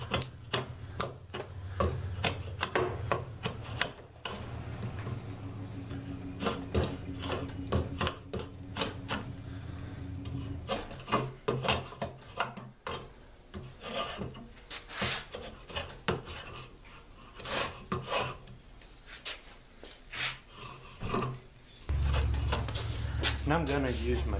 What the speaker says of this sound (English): The draw knife was just to get it to a rough shape.